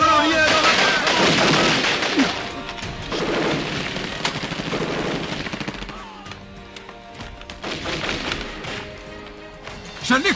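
Bursts of rapid gunfire and sharp cracks in an Indian action film, loud and dense, fading into a quieter stretch before more shots return near the end.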